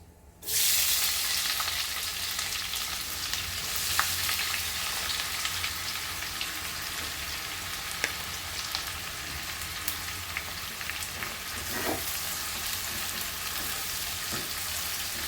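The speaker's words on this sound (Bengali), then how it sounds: "পেঁয়াজটা একটু ভাজতে দিতে হবে।" Chopped onions fry in a pan of already-fried spices for a dhaba-style chicken curry, a loud, steady sizzle that starts abruptly and hisses on unbroken, with faint crackles and pops.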